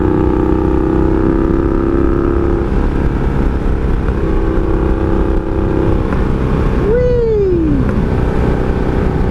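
A 1982 Honda Magna V45 VF750C motorcycle, a bike losing clutch pressure, drones steadily throughout the ride with a rising-then-falling pitch sweep near the end; a brief exclaimed voice is heard.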